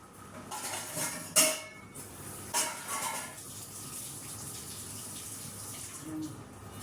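Food is washed under a running tap in a kitchen sink, water splashing steadily with a couple of louder clatters of dishes, fairly faint overall.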